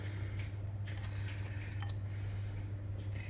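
Thawed frozen green beans sprinkled into a casserole dish for a potato gem casserole, soft light patters and small clicks over a steady low hum, quiet and close.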